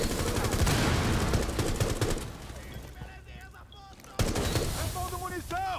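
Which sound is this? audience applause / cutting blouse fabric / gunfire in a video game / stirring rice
gunfire in a video game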